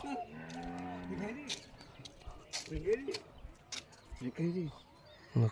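A cow moos loudly several times, with deep drawn-out calls, alongside scattered knocks, bird chirps and background voices.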